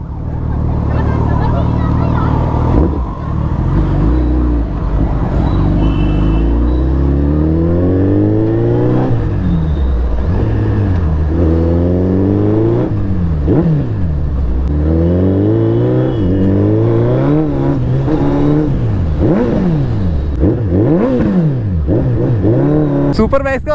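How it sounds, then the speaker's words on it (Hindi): A Suzuki Hayabusa superbike rides on the road, its engine revving up and down repeatedly in rising and falling sweeps, loud and close, with a rider's voice talking at times over the engine noise. "फिलहाल अब मैं चलाने जा रहा हूँ भैया की हायाबुसा।"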